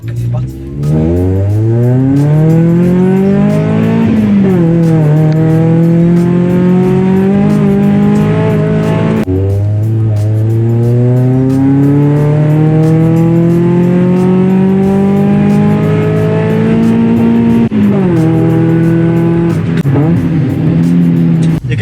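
Toyota Celica engine revving hard while driving, climbing through repeated gear pulls with a rising tone that drops at each upshift, loud and close throughout.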